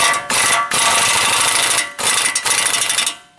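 A ratchet clicks rapidly in bursts, with short pauses between strokes, as a tie rod is tightened on a 2007 Chevy Trailblazer; close and loud with no talking.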